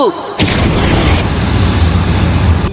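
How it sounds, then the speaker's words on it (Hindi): A Fire Style Fireball Jutsu effect erupts abruptly into a loud, roaring whoosh of flame that holds as a dense, rumbling blast to the end. "Fire style fireball jutsu."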